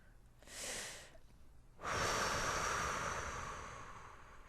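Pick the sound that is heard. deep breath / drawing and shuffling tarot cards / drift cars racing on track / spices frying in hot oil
deep breath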